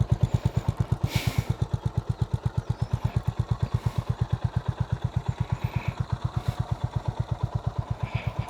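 Honda CB350RS retro motorcycle engine idling, a steady even thumping pulse close by that holds a constant rhythm throughout with no revving.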